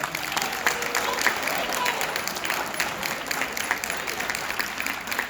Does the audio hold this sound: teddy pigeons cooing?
no